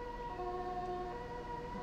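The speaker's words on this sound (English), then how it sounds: "since it's only like rescue people, you don't really need the siren" A steady wailing ambulance siren sounds in the Roblox game Emergency World Wide, continuous tonal wail with layered harmonics, moderately loud and alone.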